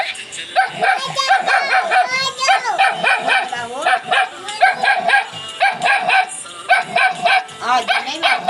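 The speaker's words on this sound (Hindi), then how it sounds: "और ये देखो गाइस, इनके यहाँ पे कुत्ता हो गया है।" A dog barks repeatedly in quick yipping bursts at dusk outside a house, close and loud, with some whimpering between barks.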